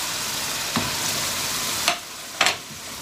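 Spices tipped into a pan of frying chicken jalfrezi, a steady oily sizzle running throughout with three short clattering bursts as the spices land and are stirred, close and fairly loud.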